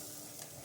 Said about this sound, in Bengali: ঘি মেল্ট হয়ে গেলে কিছু কাজু আর কিশমিশকে ভেজে নেব